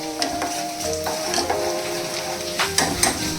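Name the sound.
cumin and crushed ginger sizzling in hot oil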